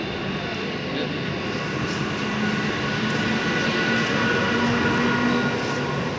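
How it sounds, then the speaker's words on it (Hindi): A train rumbles steadily at Orai railway station, a continuous broadband rolling roar with faint tonal squeals, fairly close and unbroken throughout with no talk. "ये भी कितनी बढ़िया ट्रेन थी, बढ़िया थी, अच्छी थी।"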